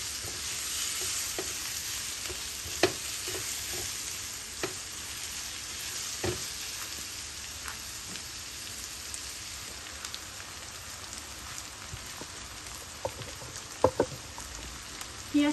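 Onions fry gently in a pan to soften, giving a steady soft sizzle with occasional stirring clicks and scrapes throughout.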